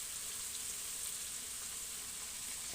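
Chicken frying in a pan gives off a soft, even sizzle that holds steady the whole time, with no voices over it.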